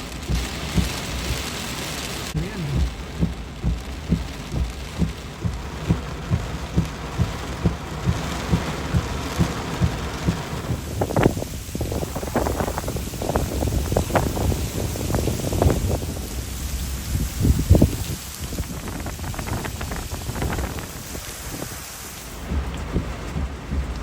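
Steady rain falls outdoors in Sarasota after a hurricane, a broad continuous wash with patters and occasional louder bursts, no talk.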